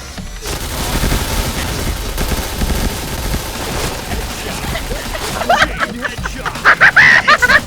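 Rapid gunfire bursts in the video game PUBG, loud and sustained, with players laughing and shouting in the room over the shots.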